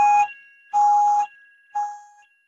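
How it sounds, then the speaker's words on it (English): A fire alarm test rings in a lab: three loud electronic tone bursts, each about half a second long, separated by short pauses, with nothing else heard. "that's our fire alarm"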